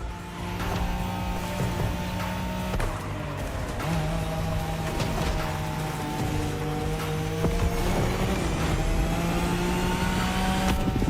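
A car engine revs and shifts steadily through a sharp turn in a racing video game, a continuous mid-pitched drone with rising and falling gear tones and no talk.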